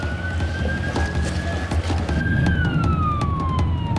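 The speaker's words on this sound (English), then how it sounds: "I think I hear the sirens." Emergency vehicle sirens wail during a coast guard response to a fire on a boat in Florida, with a steady rising and falling tone over loud rumbling background noise and sharp knocks.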